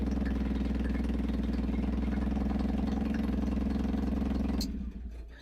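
A modified Tata Nano engine fitted with a straight-pipe exhaust idles loudly with a deep, steady throb, close to the microphone, then cuts off near the end.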